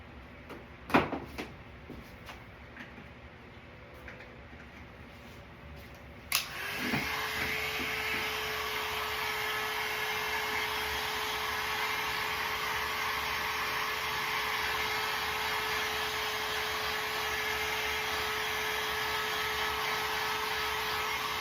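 Handheld hair dryer switched on abruptly partway through, then blowing as a loud steady whir to dry decoupage wall art, preceded by a few faint clicks and handling bumps.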